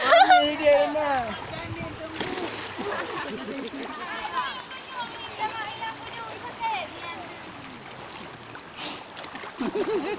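A small child plays and splashes in river water below a waterfall, with steady rushing water and intermittent splashes under near, excited talk from a child and adults.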